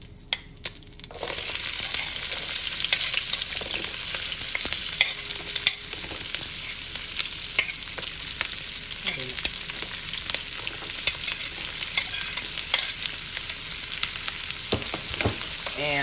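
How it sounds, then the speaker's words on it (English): Chopped yellow onions sizzle in hot grease for sloppy joes, a loud, steady crackling fry close by with occasional stirring scrapes and no talking. "right now we're just gonna put the onions into the grease"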